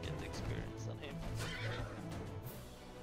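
A horse in the video game Age of Wonders III whinnies in a long, wavering neigh, fairly clear and close, followed by a brief hoof clatter, with faint talk underneath.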